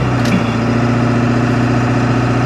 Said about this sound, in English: with the diesel engine and the road noise and everything